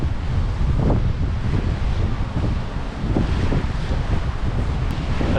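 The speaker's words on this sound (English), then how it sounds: "The wind doesn't help by doing that," A bitter north-easterly wind buffets a microphone on the Cardiff foreshore, rumbling and gusting continuously with rising and falling blasts and no voices.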